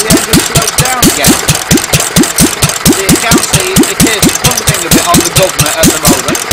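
A Petter A1 stationary engine runs under its governor, a loud, close, rapid, steady rhythmic chugging of individual firing pulses with no voices.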